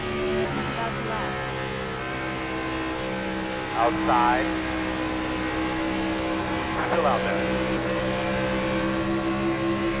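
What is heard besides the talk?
race cars lapping a speedway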